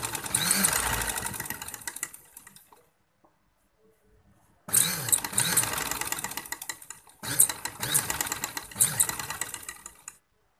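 A sewing machine stitching dori piping onto a dupatta or kameez, running in three bursts of rapid mechanical whirring and clatter, with a pause of about two seconds after the first run.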